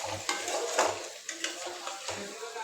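Meat is stirred and slow-fried in a pan as its bottom starts catching. Several spoon scrapes and clinks sound against the cookware over a steady low sizzle, close by and with no talking.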